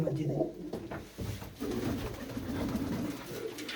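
Pigeons from a fancier's loft in Mullanpur Kalan near Mandi Gobindgarh coo in low, throaty rolls amid busy background noise and some voices.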